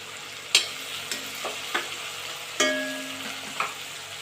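Ginger garlic paste frying in a pan for chilli chicken gives a soft steady sizzle, broken by several sharp spatula clinks and scrapes against the pan.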